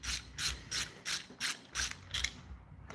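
A ratchet clicks away at the last bolt on an engine being pulled, seven evenly spaced bursts of rapid pawl clicking, close and crisp, then a short pause into quiet.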